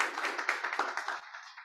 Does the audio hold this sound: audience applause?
yes